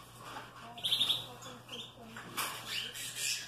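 A caged pet canary in a home breeding room chirps in a run of quick, bright tweets, with further scattered calls close by against a low steady background hum.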